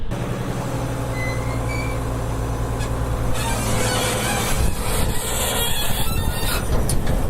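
Loud, continuous mechanical rumbling and grinding from a New Holland bale wagon, with high-pitched squealing from moving parts needing grease, steady throughout with no voices.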